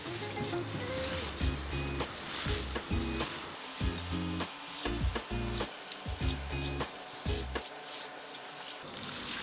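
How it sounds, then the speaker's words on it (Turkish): Bread dough for Malatya-style bean leaf wraps, salted, kneaded by hand at close range, giving steady rhythmic squelching presses and slaps with short pauses between strokes and no talking. "E, ben bunu yoğurmaya başlıyorum."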